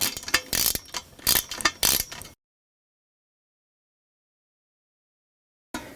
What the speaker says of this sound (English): we're just going to start ratcheting the inside of this and get it tight